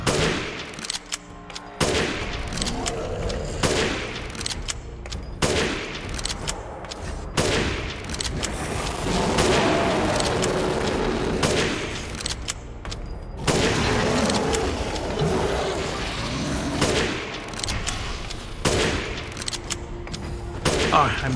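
Rapid bursts of gunfire from Resident Evil Village, the shots cracking in clusters across the whole stretch, loud and close, with heavy game ambience rumbling between volleys and occasional voice underneath.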